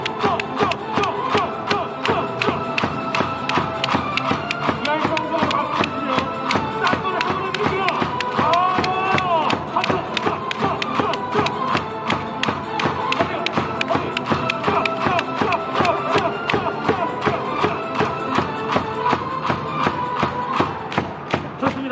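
Rhythmic crowd clapping and cheering in an indoor Korean volleyball arena, steady synchronized claps repeating throughout under a busy crowd din and chanting voices.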